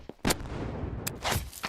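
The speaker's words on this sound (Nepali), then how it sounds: "यो रकेट लन्चर आफैले आफैलाई चाहिँ ड्यामेज गर्ने मिल्ने रहेछ" Rocket launcher fire in a Unity-made game, a few sharp synthetic blasts with rumbling explosion noise between them, loud and close.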